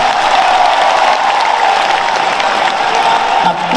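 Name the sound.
crowd clapping at religious gathering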